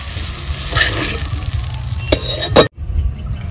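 Chicken frying in a pan in a village kitchen, a steady sizzle with scraping stirs and metallic clinks of utensil against pan, ending in an abrupt cut before the sizzle resumes more quietly.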